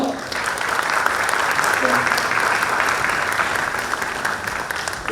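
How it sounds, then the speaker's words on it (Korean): Steady, dense audience applause fills a hall at an NC Dinos manager's inauguration ceremony, continuous and fairly loud throughout with no talk over it. "여러분 박수로 맞이해 주시고요"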